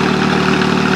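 A red Iseki TS 2800 tractor engine runs with a steady, close, low throbbing drone, fitted with iron cage wheels out in a rural field.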